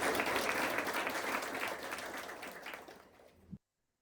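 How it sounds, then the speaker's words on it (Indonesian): Audience applause at an Indonesian company monthly alignment meeting, a dense roomful of clapping holding steady, then thinning and stopping abruptly. "Kasih tepuk tangan untuk Mr. Ananta."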